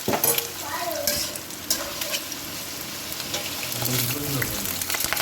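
Two or three eggs scrambled in a hot frying pan, a continuous sizzle with scraping stirring strokes and spatula clatter close by.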